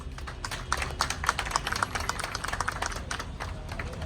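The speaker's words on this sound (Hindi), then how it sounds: "तो एक बार चाहूंगा कि सभी अपने लिए एक बार जोरदार ताली बजा लें।" Office audience clapping at a B.R. Ambedkar birthday gathering, a steady dense patter of many hands held at moderate level for about four seconds with no talk over it.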